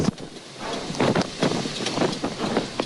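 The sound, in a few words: strong typhoon wind blowing through trees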